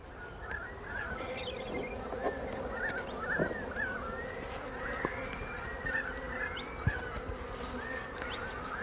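Honey bees buzz steadily around an open beehive, a close and continuous droning hum with individual bees whining past, plus a few faint clicks and knocks.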